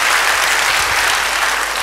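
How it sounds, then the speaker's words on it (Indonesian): Church congregation applauding during a Pentecost sermon, a dense, loud, continuous burst of clapping from many hands filling the room. "Beri tepuk tangan buat dia"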